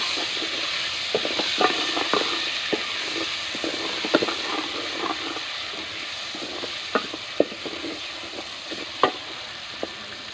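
Tomatoes frying in a pan with browned garlic, ginger, salt, chili and turmeric for a beef liver masala, a steady close sizzle broken by sharp scrapes and clinks of stirring.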